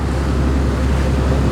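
Sea water surges and rushes around a boat out in the middle of the Andaman Sea, with a loud, continuous wash and heavy wind buffeting the microphone.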